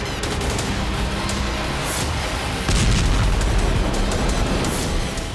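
A drone strikes the burning Tuapse oil refinery in Krasnodar, setting off a loud, rough explosive roar that swells partway through and holds as dense, crackling rumble.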